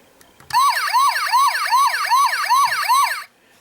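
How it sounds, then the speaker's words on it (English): A Transformers Animated Leader Bulkhead toy robot's loud electronic siren wails in rapid repeating rising sweeps, about seven cycles, then cuts off abruptly; toy-like and close, no talking. "he does have sound and light effects, which I will show off in this mode right now"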